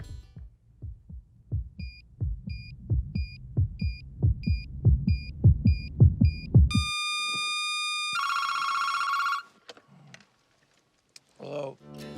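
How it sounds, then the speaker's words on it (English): A rhythmic thumping heartbeat with soft beeps, then it cuts abruptly to an electronic phone ringtone trilling loudly before brief noises follow. "the heartbeat sound effect match cut with the phone ringing"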